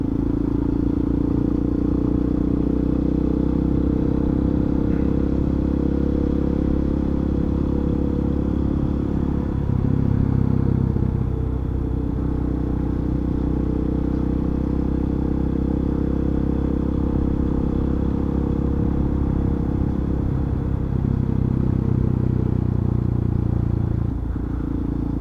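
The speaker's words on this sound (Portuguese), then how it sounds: "Ela começa a acelerar a motoca" Motorbike engine droning steadily on Estrada das Pedrinhas, loud and close throughout, with gentle swells in pitch as the rider opens the throttle.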